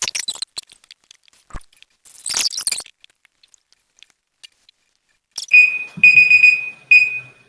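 A classroom timer alarm sounds after a few quiet seconds of faint rustling and small noises, giving three bursts of sharp, high electronic beeping, close and loud, with no talking over it.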